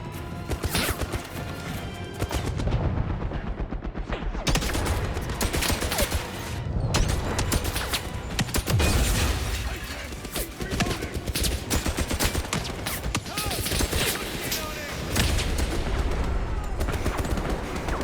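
Sustained battle gunfire rattles on without a break, with dense overlapping bursts and volleys, loud and close, and shouting voices mixed in beneath the shooting.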